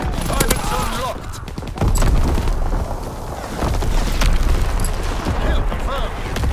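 Artillery barrage pounding in Call of Duty WWII, a dense run of booming blasts and crackling gunfire rolling continuously, loud and close, with a voice speaking over the chaos.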